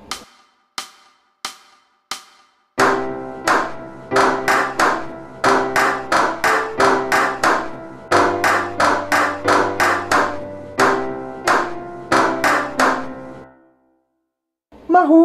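Sharp hand claps ring out alone, first a few spaced single claps, then steady rhythmic clapping in time with a simple backing tune, loud and close, pausing briefly before resuming.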